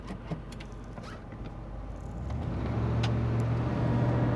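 A 1991 Ford Bronco Eddie Bauer 4x4 pulls away, heard from inside the cabin: a low engine rumble and road noise build steadily, with small clicks and rattles over it.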